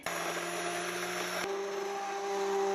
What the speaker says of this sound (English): go ahead and blend up your tomatoes and your onions. I'm going in with this hand mixer here